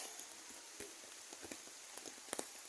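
Light rain patters on a surface with scattered soft drops and taps, fairly quiet and steady, no talking.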